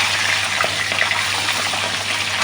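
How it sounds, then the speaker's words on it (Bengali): Fish head frying in hot oil in a pan, a steady close sizzle and crackle with no break throughout. "এবার মাথাটা ভাজছি"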